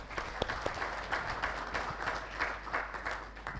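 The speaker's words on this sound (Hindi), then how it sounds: "आप सबके लिए जोरदार तालियां।" Loud, steady audience applause fills a hall at a business conclave, with dense clapping that carries on throughout without a break.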